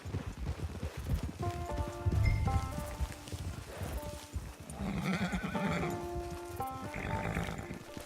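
Horse in Red Dead Redemption 2 whinnies with a tonal, wavering call over clopping hooves and game ambience, fairly close and loud, with a second neigh later.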